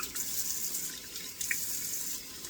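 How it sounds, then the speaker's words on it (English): Warm tap water runs steadily into a sink with a soft hiss, broken by a small splash partway through as it is splashed on a face. "I'm going to give a couple of splashes of warm water on my face"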